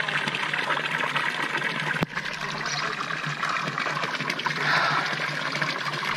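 Pure spring water from the Sierra Nevada runs in the Alpujarra mountains, a close, continuous splashing trickle with a brief knock partway through and a slight swell near the end.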